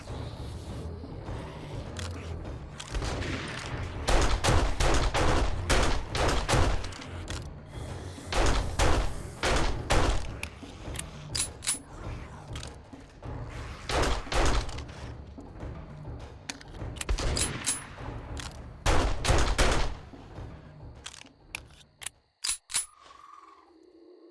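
Repeated gunfire in 7 Days to Die, a long string of sharp shots in uneven clusters and single cracks, close and fairly loud, with mechanical clicks in between and no talking.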